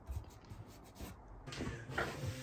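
Hand sanding across a pallet-wood table top, a soft continuous abrasive rubbing in uneven strokes that grows a little louder toward the end, close up with no talking.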